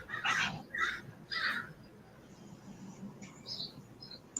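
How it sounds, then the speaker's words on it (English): A group of crows caws outside, three harsh calls in quick succession up close, then fainter calls further off over a quiet background. "that's a bunch of crows out at this time"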